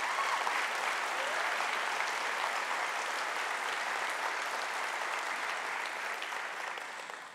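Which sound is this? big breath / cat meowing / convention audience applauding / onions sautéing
convention audience applauding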